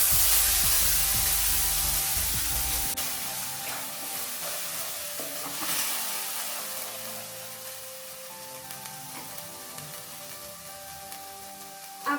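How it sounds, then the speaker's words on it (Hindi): Masala paste frying in hot oil after asafoetida and cumin seeds have crackled, for an onion- and garlic-free paneer masala: a loud initial burst of sizzle and spatter settling into a steady, close hiss with occasional stirring scrapes, no talk. "ये अच्छे से क्रैकल होने के बाद हम ये मसाला का पेस्ट इसमें डाल देंगे।"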